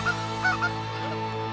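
Electronic goose calls play during a snow goose hunt with a white decoy spread in southwest Saskatchewan, loud layered honking over a steady electronic hum, with no voices.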